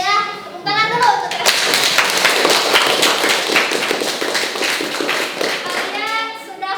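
A classroom of industrial electronics students gives a round of hand clapping, busy and uneven, lasting several seconds. A voice speaks just before it, children's voices are mixed in, and talking resumes as the clapping fades.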